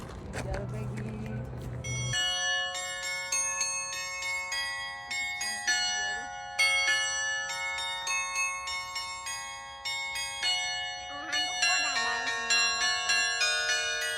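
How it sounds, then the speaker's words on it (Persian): A mechanical glockenspiel at Tellsplatte on Lake Lucerne chimes a ringing melody of bright, sustained bell tones, struck note after note with overlapping decays, preceded by a short burst of low noise. "یک کلیسای کوچک سنگی و یک ناقوس مکانیکی به اسم گلاکنشپیل برای گرامی داشته ویلهلم تل نصب شده"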